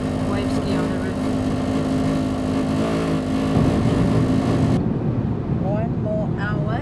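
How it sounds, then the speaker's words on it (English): Steady roaring wind noise from a surfboard wave ski strapped to a car roof while driving on a road toward La Rochelle, France, loud and constant throughout, with a low engine and road hum underneath. "So that's the noise of the surfboard wave ski on the roof."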